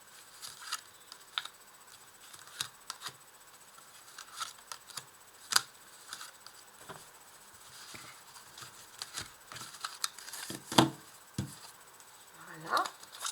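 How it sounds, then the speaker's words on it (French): Tarot cards being handled and laid out on a table in a quiet room, with light taps, slides and flicks at irregular intervals and a soft, close, intermittent clatter. "Je vais ressortir toutes les cartes et ensuite je vais les mettre en place."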